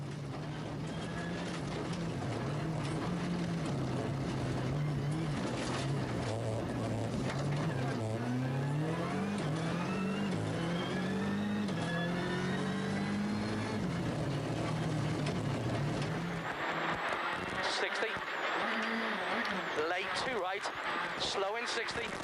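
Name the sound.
rally car engine heard onboard, ERC Rallye Açores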